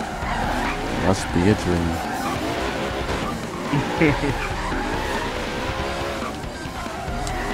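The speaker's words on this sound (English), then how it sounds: "Just the feel of that downshift and that J series motor roar" Engine roar and squealing tires from a car drifting around a parking lot in Forza Horizon 3, with a J-series motor, holding steady and loud throughout, as voices talk over it.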